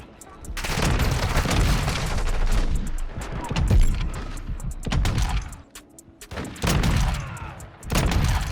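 Gunfire in the Modern Warfare 2 video game, with a sniper rifle in use: loud, close booming shots and firefight noise that come in several bursts with brief quiet dips between them. A faint voice sits under the shots.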